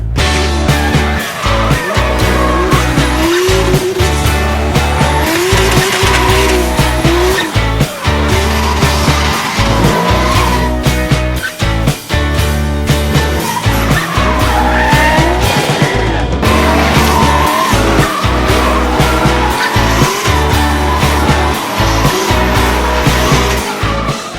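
A Nissan S14.75 drift car with a big-turbo 1J engine roars at high revs with rapid gear-like pulses and long screeching tire squeals, loud and close throughout.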